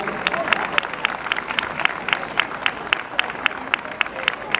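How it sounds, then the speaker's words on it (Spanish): An audience applauds a minister counsellor at a Bolivian dance event in Buenos Aires, steady rhythmic clapping at moderate volume with crowd murmur beneath it. "el aplauso para ella también, para la ministra consejera"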